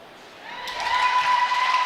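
Crowd at a women's MWBA basketball game between the Miramichi Her-icanes and Port City Fog, swelling into cheers and applause after a made free throw, rising from a low murmur to a sustained roar.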